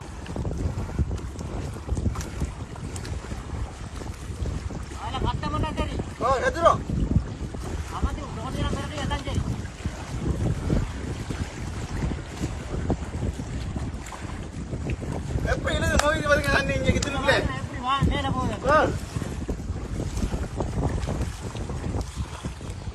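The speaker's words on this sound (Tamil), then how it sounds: "விஞ்ஞான ரீதியாக இதை மினி வாட்டர் ஸ்பவுட் என்று சொல்கிறார்கள்" Strong wind blasts across the microphone beside the Kithul tank in Batticaloa where a mini waterspout whirls over the water; gusty roaring rumble throughout, with people talking in between.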